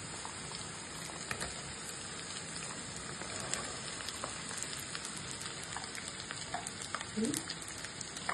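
Ivy gourd (tondli) sautéing in a pan as a chaat masala vegetable dish, giving a steady, even sizzle with faint clicks of stirring throughout and no voices.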